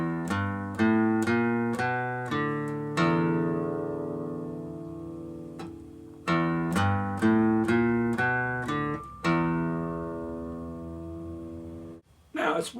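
Guitar picking a Texas blues phrase on open strings, with runs of quick plucked notes followed by ringing sustained tones, close and alone at moderate volume, a brief extra rustle at the very end.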